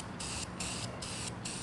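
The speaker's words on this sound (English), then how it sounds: "So I just want to start spraying here" Self-priming aerosol spray paint on a brake caliper under a car, spraying in short hissing bursts, about four pulses in quick succession, close up over a steady background hum.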